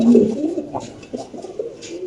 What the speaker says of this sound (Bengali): এই দেখেন কবুতর ডাকটা দেয় দেখি